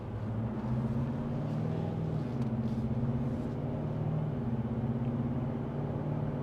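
A 2026 Ram 1500 Bighorn pickup with the 5.7 Hemi accelerates at partial throttle, giving a smooth, muted engine drone that climbs gently under a steady cabin hum, faint and even throughout.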